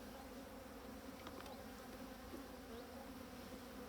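Steady buzzing of honeybees from an open hive during a winter inspection, a dense continuous hum with a few brief louder passes close by, no talking.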